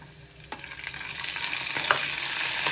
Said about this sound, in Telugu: పల్లీలు వేయించుకున్నాక మనం తీసుకున్న టొమాటోస్ అవి కూడా వేయించుకోవాలి.